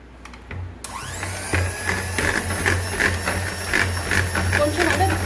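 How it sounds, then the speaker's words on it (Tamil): An electric mixer beats fresh cream for homemade ice cream, switching on abruptly into a loud, steady high whine that holds throughout with slight pulsing as the beaters work the bowl. "ஃப்ரெஷ் க்ரீம் சேர்த்து கொஞ்சம் நல்லா இதை ஃபர்ஸ்ட் பீட் பண்ணி எடுத்துக்கலாம்."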